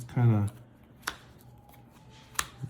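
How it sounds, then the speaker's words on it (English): A deck of Magic cards is riffle-shuffled nearby, a quick fluttering burst followed by a couple of sharp taps as the cards are squared up. "We'll just kind of shuffle it up a couple more times."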